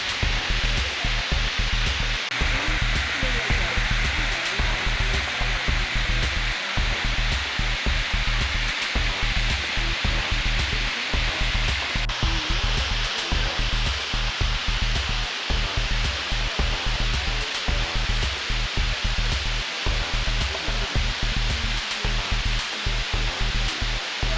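A waterfall near Stumphouse Tunnel in South Carolina gives a steady, full rushing roar of falling water that runs unbroken throughout, close and loud, with no voices.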